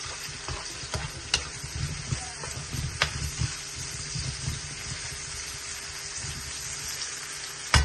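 Thinly sliced potatoes frying for aloo bhaji in a home kitchen, a steady close sizzle broken by occasional clinks and stirring scrapes of a utensil against the pan.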